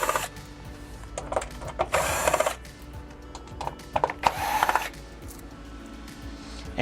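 Machine screws for the wall mount being backed out of the rear cover of an LG 47LW5600 TV, heard as bursts of close, scraping ratchet clicks and small rattles separated by brief quiet pauses.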